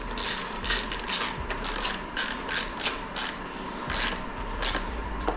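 A ratchet clicks in quick, close bursts of strokes while tightening the coolant reservoir on a Kawasaki Ninja 650 motorcycle, with no talking.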